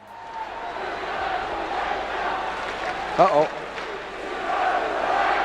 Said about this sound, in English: The crowd then chant Disco's a